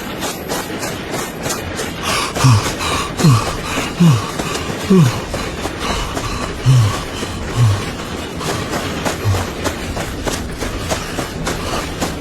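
A train running on rails heard from inside a coach, with a steady broadband rumble, repeated rhythmic clicks and a few brief low tonal squeals or horn-like notes spread through the passage.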